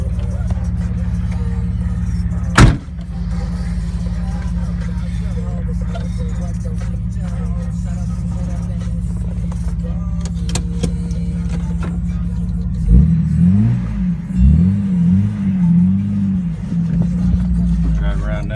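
2002 Jeep TJ Wrangler with a 4.0L engine and Magna-pack exhaust driving with windows down, a steady low exhaust drone throughout, a sharp knock early on, and a voice speaking over the engine in the latter part.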